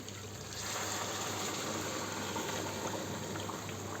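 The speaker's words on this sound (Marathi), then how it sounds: "यात आपण गरम पाणी घालू" Hot water pouring into chicken curry cooking in a pan, a steady continuous rushing stream that holds level from start to finish, close and alone.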